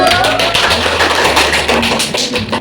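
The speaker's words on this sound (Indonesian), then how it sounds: "Berikan aplaus untuk kelompok 1." Classroom group applauding during a micro-teaching lesson, a dense, loud wash of many hands clapping at close range that continues for the full few seconds.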